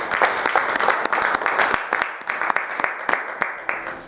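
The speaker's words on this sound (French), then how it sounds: "Est-ce qu'on peut acclamer pour ce Dieu?" A church congregation applauds in a sustained burst of sharp, close handclaps with an uneven rhythm, fairly loud and carrying on for several seconds.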